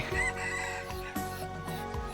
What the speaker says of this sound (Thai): เป็ดไก่